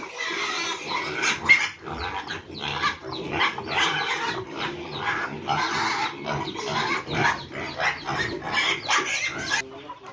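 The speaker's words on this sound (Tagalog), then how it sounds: "Yung ating baboy, pinakain na din yung ibang manok ko nandoon." Pigs grunting and snorting steadily at close range while feeding, a busy chorus of short oinks with some clucking chickens mixed in, no talking.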